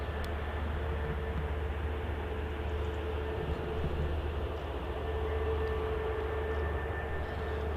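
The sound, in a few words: aircraft on runway at Manchester Airport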